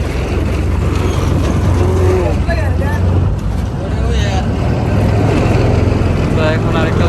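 Passenger launch boats at a busy river launch ghat rumble with loud, steady engine drone and wind buffeting, while people talk over the noise throughout.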